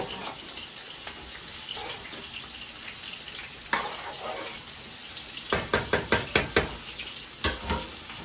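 King fish coated in cornmeal flour sizzles steadily in a frying pan, with a run of sharp utensil clicks and scrapes near the end.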